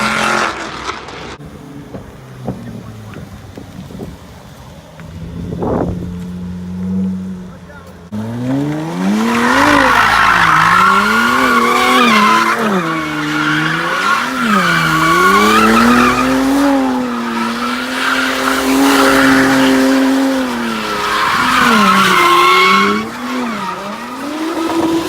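A car drifting, one of a Mercedes C43 AMG, BMW E30 or Chevrolet Cobalt SS, with a revving engine and long wavering tire squeals, loud and close, after a quieter start where people talk.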